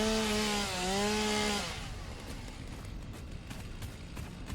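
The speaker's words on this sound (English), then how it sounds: "Chainsaw, do your best." Chainsaw in a factory-building video game cutting through trees, a loud rising engine whine with shifting pitch that drops away into a rough, grinding buzz of sawing.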